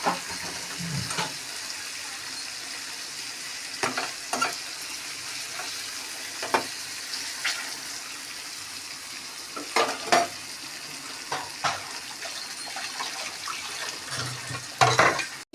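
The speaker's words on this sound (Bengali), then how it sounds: "পটলটা একটু লাল লাল করে ভাজা হয়।" Pointed gourd (potol) frying in a wok with salt and turmeric, a steady close sizzle broken by repeated scraping and stirring clatters through the fourteen seconds.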